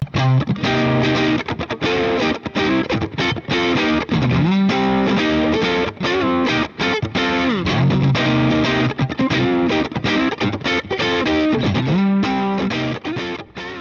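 A distorted electric guitar, a Godin LGXT with a humbucker split to a single-coil sound, plays chords and riffs, bright and twangy with a thinner single-coil character, loud and upfront with no talking.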